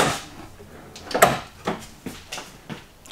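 Drawers slide open and shut in the kitchen of a 2023 Alliance Paradigm 310RL fifth wheel RV, several sharp wooden knocks and thuds spaced out roughly every half second, fairly close.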